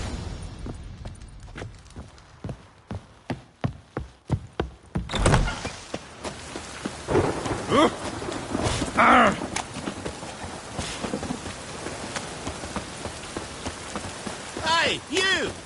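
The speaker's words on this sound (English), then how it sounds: "Rain again." Steady rain pours down in The Witcher 3, a dense wash of patter with a few sharp knocks early on, while voices talk loudly over it; no distinct thunder stands out.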